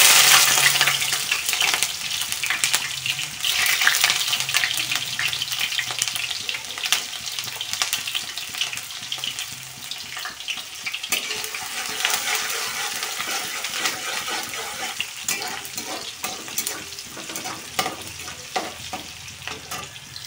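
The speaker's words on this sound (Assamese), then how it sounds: "এতিয়া মই পিঁয়াজখিনি তেলত দি দিছোঁ।" Onions fry in hot oil as fish curry is being cooked, a loud, continuous crackling sizzle with scattered pops and stirring scrapes, close up and with no talking.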